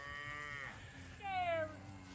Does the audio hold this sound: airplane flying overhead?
no